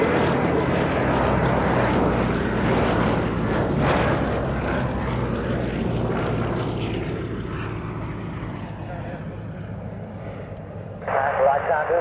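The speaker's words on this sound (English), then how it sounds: "The gallantry also showed by the crews of this aircraft, the Bristol and Lysander, the first monoplane to serve with RAF Army Cooperation Command." A Westland Lysander monoplane propeller aircraft passes at a Duxford air show, its engine a loud, broad drone that slowly fades as it moves away, with a voice talking over it.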